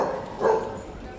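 A dog on a holiday outing gives a single short, agitated bark or yip close by, with voices around it.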